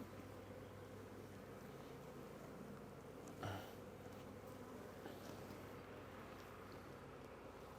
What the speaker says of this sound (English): All right, a lot of bees in here.